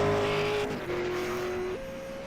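A race car engine held at full throttle at Mount Panorama in a racing video game, a loud steady drone with a brief dip and an upward shift near the end, heard alone without talk.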